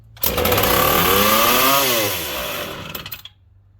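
A McCulloch PM700 chainsaw roars to life on its first start after restoration, running loud and close at high revs for about three seconds before the engine sputters and dies away.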